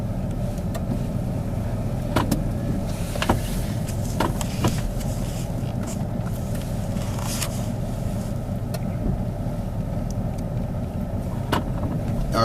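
A 4x4 vehicle in four-high creeping across ice, heard as a steady low engine and drivetrain rumble from inside the cab, with scattered creaks and knocks over the top.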